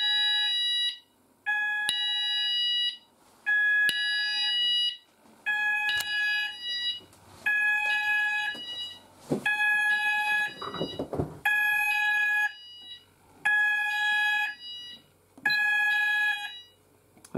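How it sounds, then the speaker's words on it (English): Apollo XPander sounder base sounding its evacuation alert tone: a loud, shrill electronic alarm that repeats in regular on-off bursts of about one second each, with brief gaps between them, and runs steadily throughout with no talk. "that's the alert tone on the XPander sounder base. It's set to the Apollo evacuation alert and evac tone"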